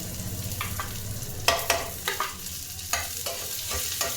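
Chopped garlic going into hot oil with black cumin while cooking flat beans, sizzling steadily with several sharp stirring scrapes and clatters of a spatula in the pan, close by with no talk.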